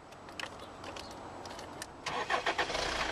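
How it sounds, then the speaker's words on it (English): A 2007 Hyundai Sonata CRDI diesel engine cranks faintly and catches near the end, settling into a low idle. The car is quiet and nearby, with small clicks and rattles before it starts. "We'll just turn her on so you can hear it running."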